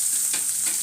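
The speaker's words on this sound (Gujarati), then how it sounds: "હવે તેની અંદર રાઈ, જીરું અને હિંગનો વઘાર કરશું" Mustard seeds, cumin and asafoetida hit hot oil for a tempering, giving a loud, steady sizzle with a bright crackling hiss throughout a brief moment and a small burst partway through, with no talking.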